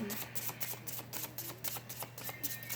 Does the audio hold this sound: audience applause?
no